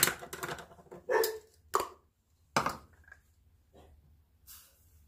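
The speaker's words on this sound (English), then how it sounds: "they kind of, you know, woke up on this dreary day and decided to start barking." Several dogs barking in short sharp bursts on a dreary day at home, close and fairly loud, separated by brief pauses with a faint final bark.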